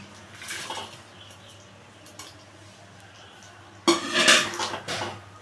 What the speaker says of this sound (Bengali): এবার আমি এই পকোড়াগুলোকে দিয়ে দিচ্ছি